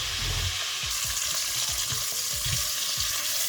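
Onions, garlic and ginger frying in a pan for ackee and saltfish, a dense close sizzle with low rhythmic scraping as the pan contents are moved around.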